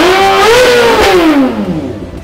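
A Kawasaki ZX4RR motorcycle with aftermarket upgrades is revved hard once, its high-pitched inline-four engine screaming up and then sweeping back down as the throttle closes, very loud and close.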